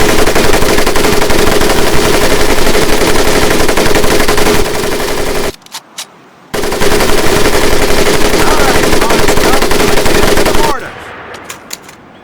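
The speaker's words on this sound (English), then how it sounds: "the M1919A4 30-caliber machine gun" An M1919A4 .30-caliber machine gun fires in the video game Medal of Honor: Pacific Assault at a boot camp range, long, loud sustained bursts with a short pause between them before the firing tails off.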